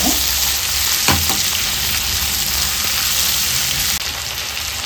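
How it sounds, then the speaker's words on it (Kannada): Masala for an egg curry fries in oil in a pan, a loud, steady, close sizzle with occasional stirring scrapes and no talk. "ಒಂದೆರಡು ನಿಮಿಷ ಫ್ರೈ ಮಾಡ್ಕೊಳ್ಳೋಣ"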